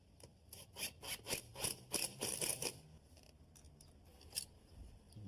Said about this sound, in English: Install another screw.